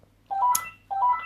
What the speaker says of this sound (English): That's my house phone ringing now